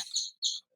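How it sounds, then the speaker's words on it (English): Birds chirping indoors, two bright, close tweets in quick succession, each shrill and brief, with near silence between and after. "My God, it sounds like you live in a bird aviary."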